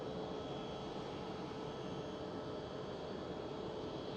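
Aer Lingus airliner on runway 24 at Schiphol Amsterdam, a steady, broad jet engine roar held at even loudness throughout, heard from a distance with no voices.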